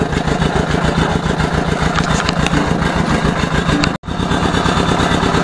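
Ursus C-325 tractor pulling a plough, its engine running loud, close and steady with an even rapid chugging throughout, broken by one abrupt instant of silence near the end before the drone resumes.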